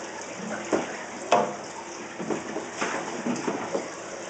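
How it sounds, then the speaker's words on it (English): A garden hose runs into an indoor pond with a soft, quiet trickle and splash. Small irregular bursts of water noise rise now and then over the faint flow. "we're filling up the inside pond"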